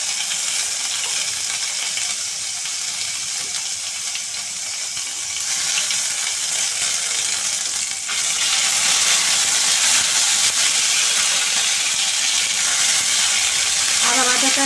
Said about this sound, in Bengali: একটু ভাজা ভাজা হয়ে এলে